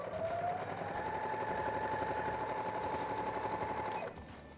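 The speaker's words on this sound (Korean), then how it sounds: "먼저 옆면부터 깔끔하게 봉제를 하고 보여드릴게요." A sewing machine stitches the side hem of a fabric curtain in one continuous, fast rattling run of needle strokes with a steady motor whine, stopping abruptly near the end.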